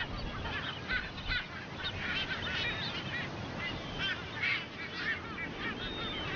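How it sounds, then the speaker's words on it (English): Ascension Island frigatebirds, seabirds found only on a tiny offshore island, give a dense chorus of overlapping honking, goose-like calls at close to middle distance, with no speech. "They are Ascension Island frigates, found nowhere else on Earth."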